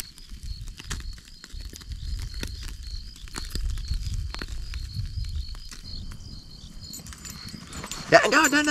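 Dog moving and whimpering around a campfire at an outdoor survival camp, with scattered soft yips and rustling under frequent nearby talk, growing louder and busier at the end.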